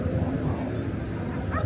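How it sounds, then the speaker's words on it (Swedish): Small dogs yip, bark and whimper close by on a beach, a steady excited chatter of several animals layered over a voice speaking throughout. "Alla små stora hundar skäller på lillplutten."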